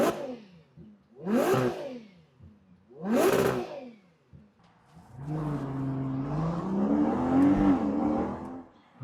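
A Ferrari Purosangue SUV engine gives three sharp rising revs in quick succession, then a longer, loud surge of acceleration with a rough, rumbling roar while driving.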